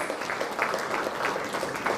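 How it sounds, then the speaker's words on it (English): An audience at a panel discussion gives a short burst of applause, a dense patter of many hands clapping at moderate loudness with no one speaking over it. "let's give a round of applause"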